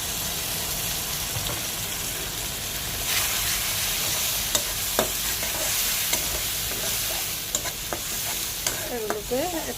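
Onion, green chili and garlic fry in hot oil with spices while a utensil stirs, a continuous sizzle broken by scraping strokes and a few clinks against the pan, close up with no talk.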